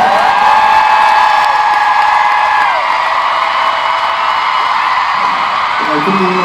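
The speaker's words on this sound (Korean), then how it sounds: "박수 한번 주세요" Concert crowd at a K-pop Asia tour show applauding and whooping, a dense continuous roar of clapping and cheers near and loud throughout, with voices shouting over it.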